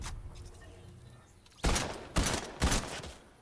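Three loud, sharp rifle shots from the Primal or Makeshift Rifle in Fortnite, fired in quick succession about half a second apart, each followed by a short echoing tail after a quiet stretch.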